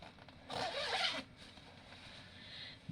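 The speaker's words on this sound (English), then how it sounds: "I'm reaching behind and zippers down." A clothing zipper is pulled down behind the back, giving one brisk rasping slide of about three-quarters of a second, close and fairly loud against a quiet room. Nobody speaks.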